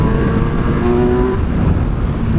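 A Kawasaki Versys 1000 motorcycle engine revving on a test ride, a loud steady drone with rising tonal whine, close and continuous over rushing wind noise.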